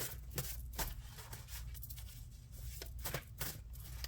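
A deck of message cards is shuffled by hand in a quiet room, making soft repeated riffling and sliding bursts in an uneven rhythm.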